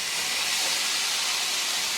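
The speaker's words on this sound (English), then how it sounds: "I'm going to start adding the bodi to the pot" Yard beans (bodi) hitting a hot pot set to medium-low, giving a steady, loud steamy hiss that holds without a break for the whole stretch.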